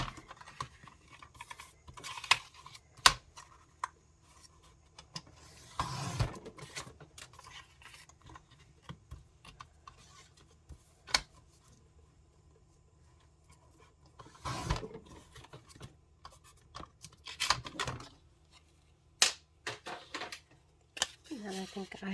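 Paper index cards, dyed with coffee and beet, are cut at a craft table, heard as sparse, crisp snips and clicks scattered over a quiet background while a person talks.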